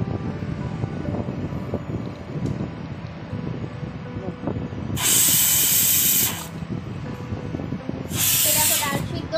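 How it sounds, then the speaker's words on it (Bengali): A pressure cooker on an induction hob cooking matar dal lets out two loud, sustained bursts of hissing steam over a steady kitchen rumble. "ওখানে কুকার বসানো ইন্ডাকশনে, ওই ডাল সিদ্ধ হচ্ছে, মটর ডাল"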